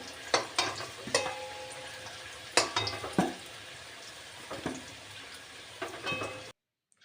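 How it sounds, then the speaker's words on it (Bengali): Potatoes frying in oil with whole garam masala, a steady crackling sizzle broken by occasional clattering stirs and scrapes of a utensil against the pan, ending abruptly in silence. "গোটা গরম মশলা দিয়েই আলু ভেজে নিলাম"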